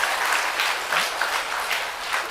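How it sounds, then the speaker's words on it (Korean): Listeners at a sermon during a music retreat at a retreat house break into applause, a loud, continuous patter of many hands clapping in a room for a couple of seconds. "박수 나올 때가 됐는데."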